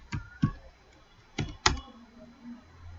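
A few separate keystrokes sound on a computer keyboard, close and fairly crisp clicks in two pairs with pauses between, with no speech over them.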